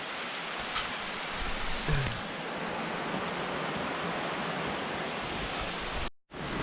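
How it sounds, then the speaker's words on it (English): A waterfall beside a hiking trail makes a steady, dense rush of falling water, heard from close by with no talk. It cuts out for an instant near the end. "we're right here by the waterfall"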